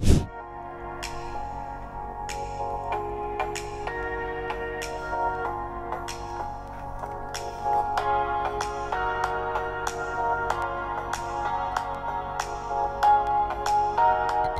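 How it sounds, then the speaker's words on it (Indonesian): A Realme Narzo 20 phone's speaker plays a melodic tune with clear repeating notes, steady and moderately loud with no talking over it. "itu dia dari segi suaranya"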